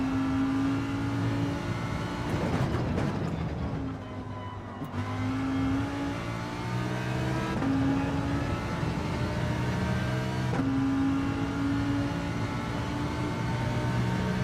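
A Lamborghini racing in Gran Turismo 7 holds a steady engine drone, with its pitch climbing through the gears and resetting at each upshift, loud and continuous with no talk.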